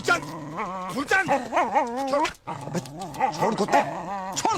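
A dog whimpers and yips in repeated wavering cries, close and fairly loud, with people talking over it.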